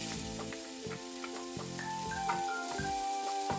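Garlic sautéing in oil over medium heat, with onion and ginger added, a steady close sizzle with light metallic scrapes and clinks of stirring throughout.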